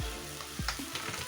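Goat meat fries in a pan with crushed garlic, giving a close, continuous sizzle with occasional crackles and pops from the oil. No voices are heard.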